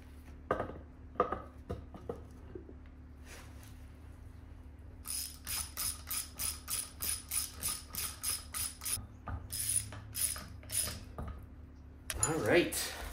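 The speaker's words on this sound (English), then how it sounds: "Let's plop the new welded diff into the reinforced case." A welded differential is worked into a reinforced case, with uneven metallic clicks and clunks early on, then a long run of rhythmic ratcheting metal clacks and a final louder scrape, all close and fairly clear.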